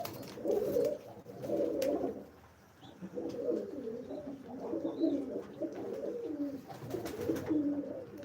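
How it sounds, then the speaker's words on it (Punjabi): Several desi Malwai pigeons coo nearby in soft, throaty rolling phrases, overlapping and repeating with brief pauses, with no talking. "ਦੇਸੀ ਮਲਵਾਈ ਕਬੂਤਰ ਆਪਣੇ"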